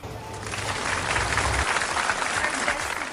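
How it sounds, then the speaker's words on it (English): Applause from a talk show studio audience, a dense wash of clapping that swells and holds steady for a few seconds, loud and close with no talk over it. "A round of applause"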